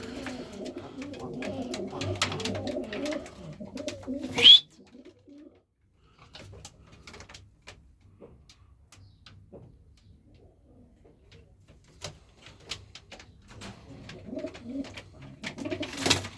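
Iraqi feather-footed tumbler pigeons coo and flutter close by amid a busy, noisy bustle, then things fall mostly quiet with scattered soft taps before the cooing murmur returns near the end.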